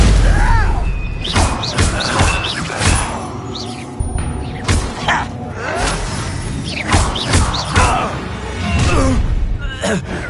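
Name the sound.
Confringo blast spell exploding in video game Hogwarts Legacy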